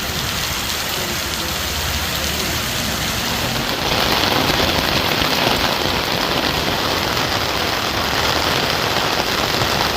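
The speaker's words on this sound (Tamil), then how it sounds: "இடி மின்னலுடன் கூடிய 1 மணி நேரத்திற்கு மேலாக மிதமான மழை பெய்தது." Moderate rain falls steadily during a thunderstorm around Periyakulam in Theni district, a dense broadband wash that swells louder partway through, with a faint low engine-like rumble underneath and no voices.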